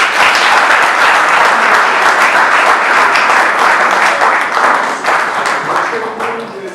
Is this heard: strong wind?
no